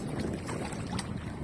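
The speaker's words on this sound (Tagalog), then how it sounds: "Malakas na yung hangin tapos ayaw nang huminto ng ulan" Strong wind and rain at sea on a small fishing boat during ultralight fishing, a steady, loud roar of wind buffeting the microphone with a dense wash of rain and water noise.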